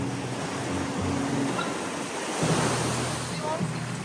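Ocean surf breaks and washes at a surf spot on a family outing, a steady, close, broadband roar of churning water with gusty wind buffeting the microphone and a few swells rising over four seconds.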